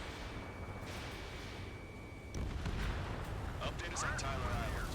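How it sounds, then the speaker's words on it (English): Artillery fire in the Ace Combat 7 flight game rumbles over a steady engine-like drone, a heavier blast swelling midway and crackling on afterward, moderately loud with a voice speaking over it. "Artillery fire just missed us from our starboard side."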